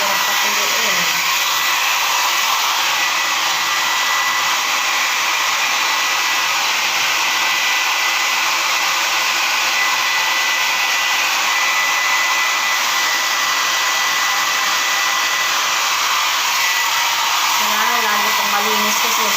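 A hair dryer roars loudly and without a break, blowing a dog's thick fur dry after its bath, with a faint voice sometimes heard beneath the noise.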